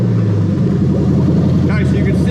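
A Lexus 3UZ-FE VVT-i V8 from an LS430, swapped into an IS200, turns over and fires, settling into a close, steady idle rumble while a voice speaks nearby.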